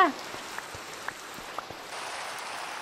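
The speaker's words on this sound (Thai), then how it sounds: "ฝนตกมามากเลยค่ะ ยังไม่หยุดเลย" Steady rain hisses in the game Minecraft, a continuous even wash of falling drops with faint scattered ticks. It is fairly quiet and constant, with no talk over it.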